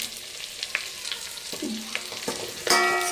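Chopped onions and cashews cook in ghee with a soft sizzle while a spoon stirs and scrapes the pan in scattered strokes, ending in a louder burst of frying.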